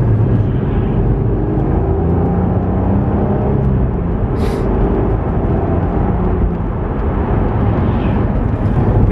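An Audi A3 3.2 project car drives along with its raspy exhaust giving a steady, loud rumble and road roar heard from inside, continuous throughout with no talking.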